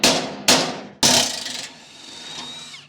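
A hammer strikes the front bolt on a two-car hauler trailer's suspension, three sharp metallic blows close by, each with a brief ringing decay, the last followed by a fading high ring.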